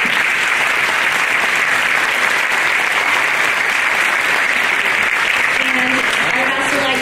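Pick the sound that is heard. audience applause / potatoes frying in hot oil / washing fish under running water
audience applause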